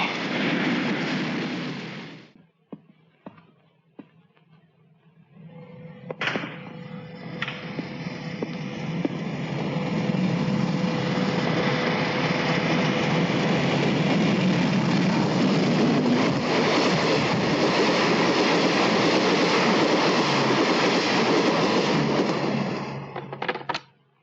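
A Super Express passenger train roars past at close range, its loud, sustained rumble building after a brief quiet stretch and holding steady for nearly twenty seconds, with a faint steady tone running through it.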